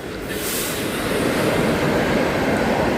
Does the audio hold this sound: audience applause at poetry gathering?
no